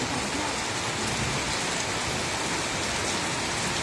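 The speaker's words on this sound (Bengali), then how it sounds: "যথেষ্ট পরিমাণ বৃষ্টি দেখুন" Heavy rain pours down steadily in Muktagacha, a loud, dense hiss of drops drumming on surfaces with no break and no voices.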